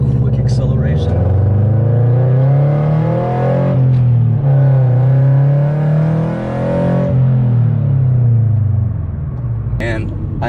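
Subaru BRZ, Scion FR-S or Toyota 86 sports car accelerating hard, a loud close engine note climbing through revs, dipping at a gear change and rising again before easing off.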